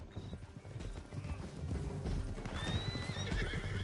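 Hooves clip-clop at a gallop in a Red Dead Redemption II game scene, a steady rapid beat with horse whinnies and snorts rising near the end over rumbling game sound.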